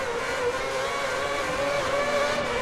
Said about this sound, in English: The engine didn't sound too good then.